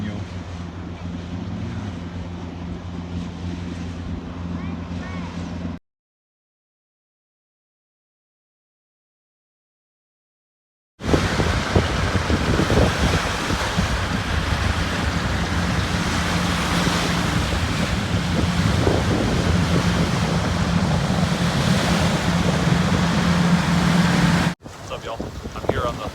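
Steady Lake Michigan surf washes onto a beach with gusting wind buffeting the microphone, broken by a stretch of silence before the waves resume.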